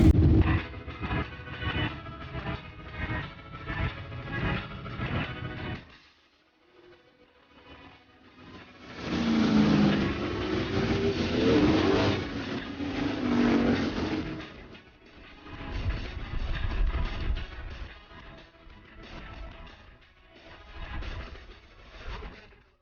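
Late model street stock race cars in a heat race at a dirt track, their engines roaring loudly and continuously, with a quieter lull in the middle and a brief pass of a closer engine, plus faint announcer talk.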